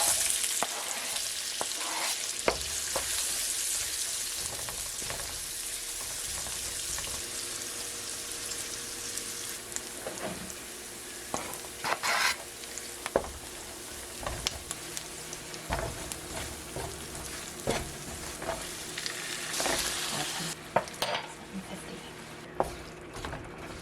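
Cooked beans, onion and rendered pork fat frying in a pan for refried beans make a sustained close sizzle with frequent crackles and scraping stirs, while a voice talks over parts of it.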